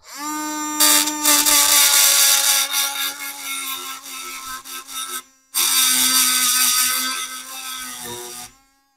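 A Lidl Crelando engraving pen running, a loud, steady high-pitched buzzing whine that holds for several seconds, cuts out briefly, then resumes before stopping.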